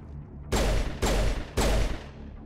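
Three heavy, loud gunshot bursts in Mass Effect Legendary Edition, evenly spaced about half a second apart, each with a sharp crack and short decay.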